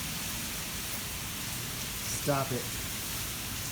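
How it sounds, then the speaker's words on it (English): Heavy rain pours steadily during a flash flood in Chicago, a dense continuous hiss with a brief voice cutting in near the end. "It's just pouring rain."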